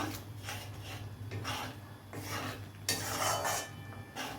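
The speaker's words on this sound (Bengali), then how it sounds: "এবারে পোস্তটাকে একটু ভালো করে নাড়াচাড়া করব খানিকক্ষণ।" Poppy seed paste thinned with a little water is stirred in a pan for egg posto, giving steady close scraping and clinking of a spoon against metal, with a brighter burst of scraping near the end.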